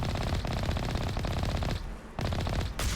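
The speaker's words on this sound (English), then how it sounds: "Heavy turrets." Heavy turrets fire in the video game Mass Effect, loud rapid automatic bursts hammering continuously with one brief pause before the barrage resumes.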